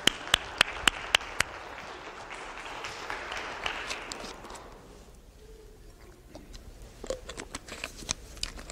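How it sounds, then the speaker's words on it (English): Applause from a keynote conference audience as a volunteer walks up to the stage, a few sharp nearby claps at the start over a moderate crowd patter that fades out midway, followed by sparse scattered claps. "Big round of applause as he makes his way up to stage here."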